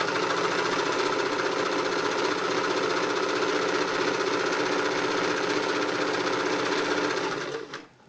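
Singer 328K sewing machine stitching a pattern, a loud continuous rapid mechanical whirr and knock that runs steadily for several seconds, then slows and stops at the end; no voices.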